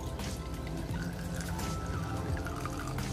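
Braising liquid left from simmering chicken with galangal pours through a cloth strainer in a steady, continuous gush, close and moderately loud, with no voices.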